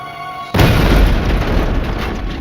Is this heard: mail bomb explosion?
yes